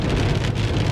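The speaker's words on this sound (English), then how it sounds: "hopefully I can make it back before the real heavy rain starts and the thunderstorm activity" Steady rain during a spring thunderstorm, with hail earlier, heard from inside a car driving home, a continuous dense patter with low rumbling underneath and no talk.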